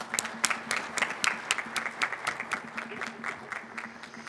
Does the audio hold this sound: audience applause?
yes